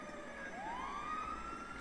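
Ambulance siren wailing in a rising sweep that levels into a sustained tone, steady and moderately distant, alone with no talking.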